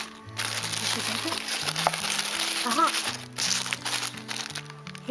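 Tissue paper crinkles and rustles while a parcel of pins and washi tapes is unpacked, soft continuous crumpling close to the listener, with a voice talking over part of it.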